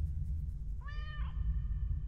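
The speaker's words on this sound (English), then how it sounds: "Still the same cat." A cat gives a single clear meow midway through, fairly close, over a steady low rumble of background noise with no talk.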